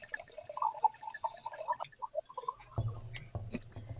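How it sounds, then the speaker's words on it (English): Orange Vermentino wine pouring into a glass, a quiet close trickle with small dripping plinks at first that turns into a steadier gurgling flow near the end, no voices. "the second best sound is Pouring the wine"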